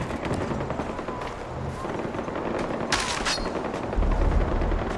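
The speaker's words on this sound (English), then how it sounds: "Sweet sounds of gunfire." Machine-gun fire in the open-world shooter Far Cry 4, set at night in Kyrat, with rapid bursts and scattered shots rattling at middling distance over a low rumble, one sharper louder burst near the middle.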